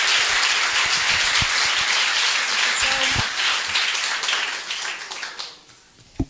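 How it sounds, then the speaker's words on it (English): Conference audience applauding a keynote speaker, dense clapping steady throughout and tapering off near the end, with a brief voice over it. "Can we give a round of applause to Dr."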